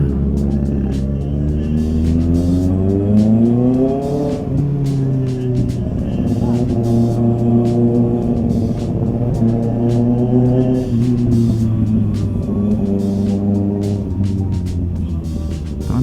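Road traffic on a busy Saturday evening, with cars, a police pickup and a bus nearby, makes a loud steady engine rumble whose pitch rises and falls as vehicles accelerate and shift, continuous throughout.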